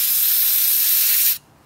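Aerosol spray is sprayed onto slot machine parts from a Jumpin Jack machine in one loud, steady hiss lasting over a second, then cut off abruptly, with no talk.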